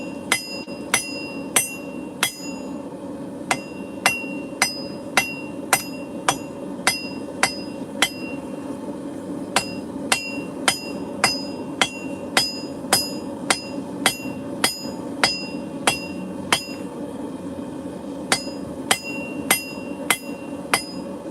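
A hand hammer rings down on a forged steel hammer drift handle, squaring it up, in a long series of sharp metallic strikes at an uneven, steady working pace against a low background hum.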